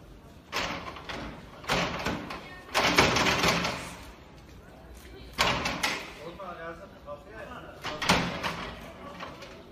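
A mosque door being kicked on a Friday, heavy thuds and rattling bangs repeating in irregular bursts, with someone shouting between the blows.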